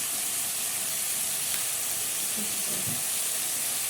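Meat seasoned with black pepper and cinnamon hisses steadily as it is stirred and sautéed in a pot for stewed kebab. The loud, even sizzle runs throughout, with soft scraping from the stirring near the end.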